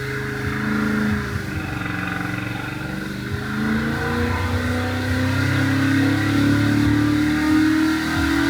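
A small-block V8 engine runs on a dyno in an engine-building facility, roaring loudly and steadily as it climbs slowly in revs over several seconds, with no voices.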